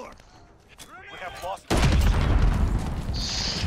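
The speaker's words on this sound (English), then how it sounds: "Enemy cruise missile. Take cover." An enemy cruise missile strikes in online Call of Duty: Modern Warfare multiplayer with a sudden, heavy, booming explosion. A long rumbling roar follows the blast after a brief stretch of voices and game chatter.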